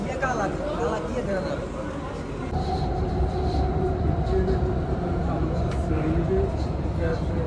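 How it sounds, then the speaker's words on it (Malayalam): Metro train running through Msheireb metro station in Doha, a steady loud rumble and rail drone throughout, with people talking faintly in the busy carriage. "ഇത് മിശ്രിബ് മെട്രോ സ്റ്റേഷനാണ്"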